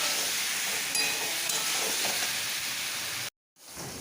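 Leafy greens frying with garlic in oil left over from frying fish, a steady close sizzle and hiss that cuts off abruptly near the end before resuming.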